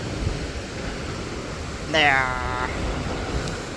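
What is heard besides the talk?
ocean waves crashing on the coast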